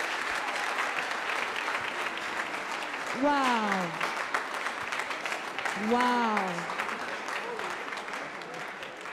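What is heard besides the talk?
audience clapping after a hymn rendition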